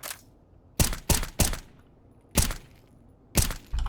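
Gunshots striking a wooden surface in the Source Engine 2 game: six sharp, loud cracks, three in quick succession, then two more spaced apart and a last one starting as the sound ends, over a low quiet background.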